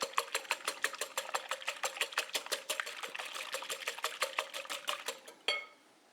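An electric mixer beats eggs in a bowl for chocolate chip cookie dough, a fast rhythmic whirring and clattering close by that stops abruptly near the end.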